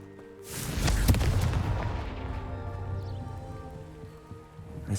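Confringo explosive spell cast in Hogwarts Legacy, a loud booming blast followed by a crackling, rumbling decay and scattered debris patter, with a small thump at the end.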